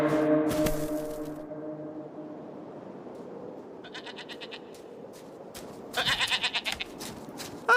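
A horn blown to imitate a reindeer mating call, from The Grinch (2018), sounds as a low, buzzy blast at the start, followed later by a few quieter goat bleats.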